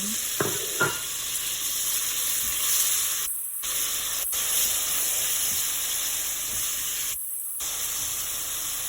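Ground meat fries with onions for spaghetti sauce, making a steady loud sizzle and hiss with stirring scrapes and a few sharp clacks and brief gaps, and no voices.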